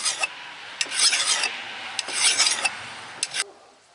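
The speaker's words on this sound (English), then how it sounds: "tell when the file is grabbing all the way across" A hand file rasps across the edge of an axe head during restoration, several short grinding strokes in an uneven rhythm, close and clear with no talking.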